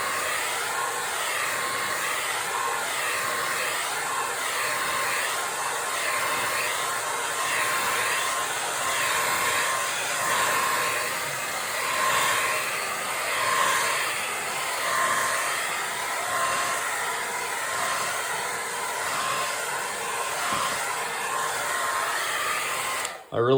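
Steady, loud hair dryer airflow drying paint on a watercolor painting, a continuous rushing whoosh with gentle fluctuations as the dryer is moved, lasting over twenty seconds before stopping.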